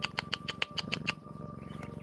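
A cat purring low and close while being petted, a steady soft rumble running under the whole two seconds, with a few quiet ticking sounds above it and no voices.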